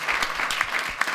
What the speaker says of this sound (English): I would like for you all to give a round of applause to Julius, Charles, Anai, Ty, and Jeff.